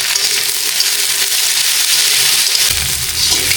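Flat beans and potatoes fry in a pan with a steady, close hiss of sizzling oil, broad and continuous throughout, with a low stirring rumble entering near the end.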